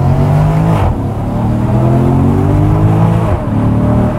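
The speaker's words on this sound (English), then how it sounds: "makes that insane naturally aspirated V8 noise" A naturally aspirated V8 sports car in Monaco revs loudly and close, a continuous roaring engine note rising and falling in pitch, with no voices.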